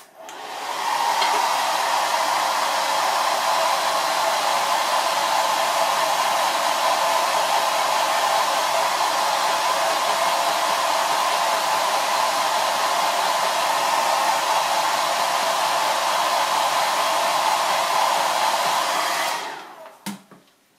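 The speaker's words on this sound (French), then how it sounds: "on va accélérer un peu ça avec le sèche-cheveux peut-être" A hair dryer blows steadily and loudly for about nineteen seconds to dry crackle-effect paint, a constant rushing whoosh, then cuts off abruptly near the end.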